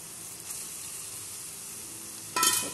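Egg rice sizzles steadily in a hot pan as fried egg is stirred through it, an even close frying hiss that ends with a brief louder scrape and splutter, with no voices.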